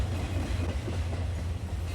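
A train in the video game Wild Arms 4 rumbles steadily with a low, continuous drone, unbroken for the whole stretch with no voices over it.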